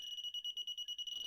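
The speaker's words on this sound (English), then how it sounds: "you can hear the really annoying beep" Arduino ultrasonic parking sensor beeping in a rapid, even series of short, high-pitched electronic tones, about ten pulses close by, ending in a brief soft rustle.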